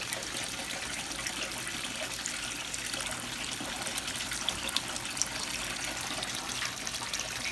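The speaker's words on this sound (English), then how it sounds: "Just bubbling out nice, nice as can be." Water bubbles and gushes through a silicone sluice box mat with a steady, even wash of flowing sound, continuous and moderately close, with no voices.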